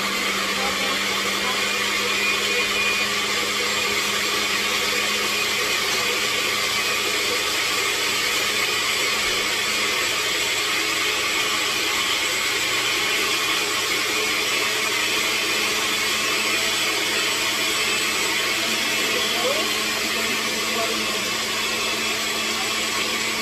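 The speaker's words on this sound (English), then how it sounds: "I'm going ahead and blending this, and I'm putting it in puree or creamy" A blender runs steadily and loudly throughout, pureeing a moi moi bean mixture with water. The whirring motor drone stays constant with no pauses.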